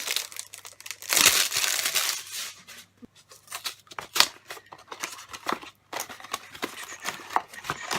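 Close, crisp crinkling and tearing of black paper or plastic wrapping as a Harry Potter vinyl figure is unwrapped, with irregular bursts of rustling and brief pauses between them.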